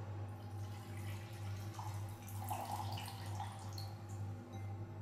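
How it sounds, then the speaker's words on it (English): Water drains away from separated starch in a small kitchen bowl, a faint trickle and drip over a steady low hum, quiet and close with no speech. "Then what I do is, I pour away this water."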